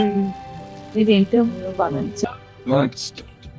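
Rain falls during a drive along a mountain road toward Zuluk in monsoon season, a soft steady patter under a voice.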